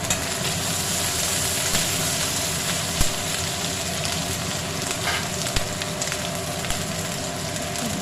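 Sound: green chillies and tomato frying and being stirred in a pan

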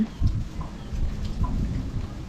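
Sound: thunder and approaching rain

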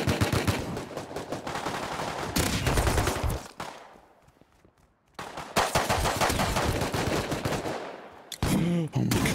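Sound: gunfire in the video game Rust

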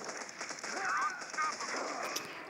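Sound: gunfire in the video game Modern Combat 4

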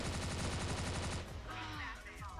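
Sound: dual TMP gunfire in video game CF Mobile

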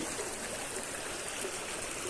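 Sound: polluted stream flowing into the Kaveri river, Erode

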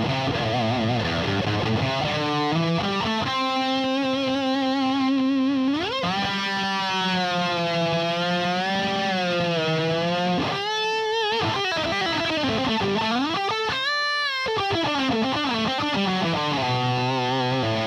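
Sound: electric guitar through MXR 5150 overdrive pedal, mids dropped, scooped

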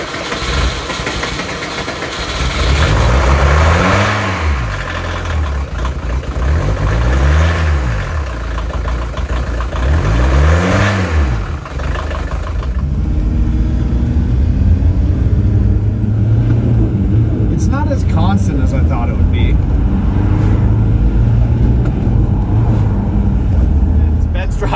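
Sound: VW Doka truck driving and engine revving

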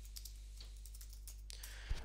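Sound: typing and clicking on a computer keyboard

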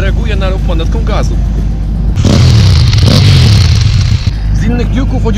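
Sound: KTM 790 Duke motorcycle engine revving

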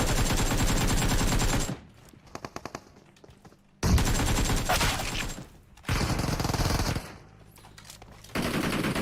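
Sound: gunfire in a video game

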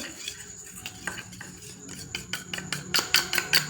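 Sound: mixing flour and oil into a paste

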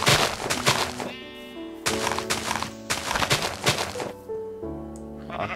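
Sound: sheep bleating in the video game Minecraft

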